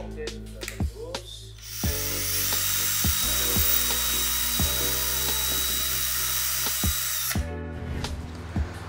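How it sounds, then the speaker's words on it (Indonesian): A power drill whines loudly and steadily for several seconds, with brief pauses and tapping at the start and end as the bit bores through a wooden rifle stock to fit an M700 bipod. "Oke, kita bor seragam"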